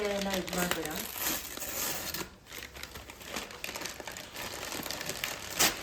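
Plastic packaging cover crinkles and rustles steadily as it is unwrapped from a copper water pot, close and continuous with soft crackles throughout.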